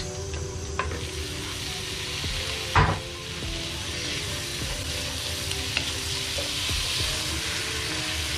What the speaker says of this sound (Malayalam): നമ്മൾ ഇതിനകത്തോട്ട് നമ്മൾ അരിഞ്ഞു വെച്ചിരിക്കുന്ന തക്കാളി ആഡ് ചെയ്യാൻ പോകണം കേട്ടോ.